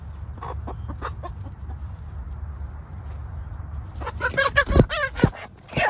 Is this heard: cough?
no